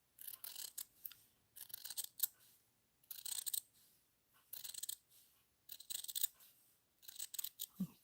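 Scissors snip through paper in repeated bursts while trimming a frame for a junk journal cover, each cut a crisp, close rasping slice separated by short pauses.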